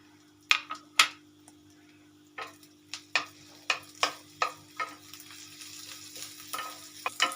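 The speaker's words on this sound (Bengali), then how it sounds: "এবার এতে আমি মাখন দিলাম, দিয়ে এর মধ্যে গ্রেট করা রসুন আর আদা" Butter with grated garlic and ginger in a pan, quiet background with a run of about a dozen short crackling bursts and spatters at irregular intervals, close but fairly faint, no voices.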